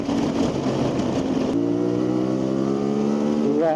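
A CFMOTO 450 MT motorcycle engine runs steadily and close, its rough busy rumble settling into a smooth constant tone that holds, then rises slightly at the very end, with no one speaking.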